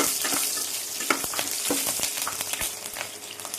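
Cinnamon, cloves, cardamom, star anise and green chilli sizzle in hot oil in a kadai for egg kurma, with a close, crackling fry and scattered pops throughout.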